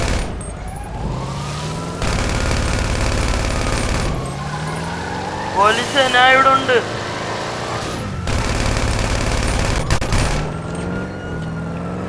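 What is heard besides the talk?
gunfire from a video game shootout with police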